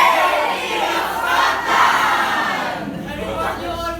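A large crowd in a Macbeth stage scene roars and shouts together in a dense, loud, sustained battle-cry cheer for the new King of Scotland, with no single voice standing out.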